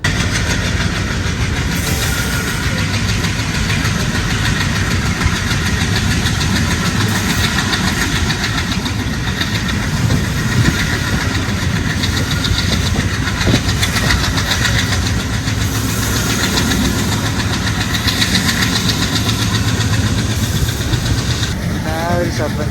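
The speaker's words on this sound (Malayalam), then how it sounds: "അതുപോലെ ആ എഞ്ചിൻ്റെ ശബ്ദമാണ് കേട്ടോ" Diesel train engine running during a general class journey, heard as a loud, continuous rumbling drone with rail clatter, close and steady throughout, with faint voices in the background.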